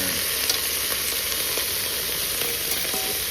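Mutton trotters sizzling in a pan with fried onions, a steady dense crackle and hiss close up with small popping bursts, no voices.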